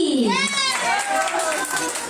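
A small crowd claps and cheers for a child named Izzy, with children's excited voices rising over the patter of hands.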